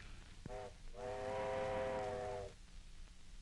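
A steam train whistle blows as the train arrives at a station in 1939 Western film audio, a short toot followed by a longer, steady harmonic blast, moderately distant and alone.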